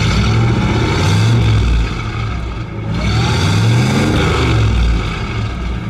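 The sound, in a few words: 1958 Buick engine revving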